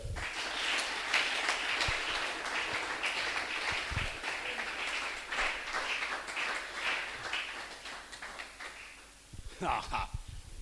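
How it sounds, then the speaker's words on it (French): Church congregation applauding and cheering, with a sustained bright patter of clapping and crowd noise running under speech, then dropping off near the end. "On acclame pour le Seigneur."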